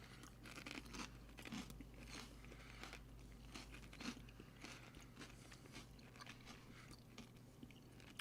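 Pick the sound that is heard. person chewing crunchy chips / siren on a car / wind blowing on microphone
person chewing crunchy chips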